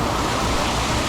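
Steady, loud rush of a 70-foot waterfall at Juayúa on the Ruta de las Flores in El Salvador, heard up close as broad, unbroken roaring noise with no voices.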